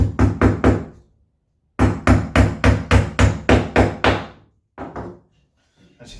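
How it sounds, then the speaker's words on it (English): A small hammer knocks nails into wooden beekeeping equipment during assembly, sharp close taps in quick bursts of three and then eight, followed by a couple of softer single knocks. "One of the reasons we use such a small hammer is just so that it doesn't get the fingers."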